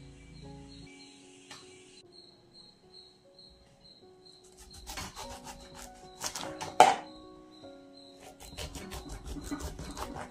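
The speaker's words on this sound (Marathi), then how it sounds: "तर आता आपण हे कट करून घेऊया आणि त्यातल्या बिया काढून टाकूया।" A knife cuts a large lemon into small pieces for pickle, making clusters of soft taps against a board while birds chirp in the background.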